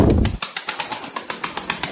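Pigeon wings flap in a fast, repeated burst of beats, loud and close, after a brief low coo at the start.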